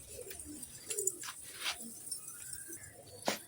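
Pigeons from a flight club loft give soft, scattered coos and chirps against quiet outdoor background, with a few brief sharper calls dotted through.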